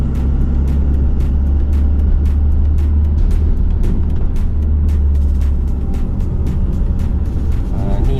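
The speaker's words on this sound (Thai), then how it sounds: "คือบรรยากาศของถนนวิทยุนะครับ" Steady street traffic on Wireless Road in Bangkok, a continuous loud low engine rumble from passing cars and buses heard from inside or beside a moving vehicle, with no talk.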